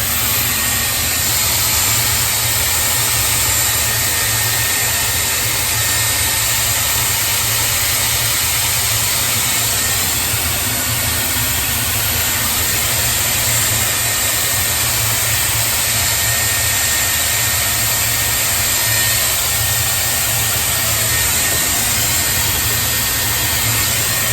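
A Dyson Airwrap hair styler blows a steady, loud rush of air with an even hiss and a faint high whine, running continuously without a break.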